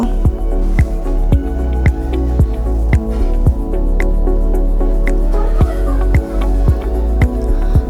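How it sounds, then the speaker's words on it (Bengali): Steady dry scraping of a spatula stirring chicken fried rice with vegetables in a pan, sharp clinks of the utensil against the metal every half second or so over a constant sizzle, close and loud, with no talk. "দেখুন, এভাবে নাড়াচাড়া করে পোলাওটাকে সবজিটার সাথে মিশিয়ে নিতে হবে"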